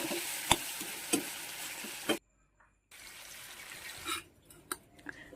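Fish frying in a wok, a soft steady sizzle with sharp spits and clicks, broken by a brief silent gap before the frying hiss resumes.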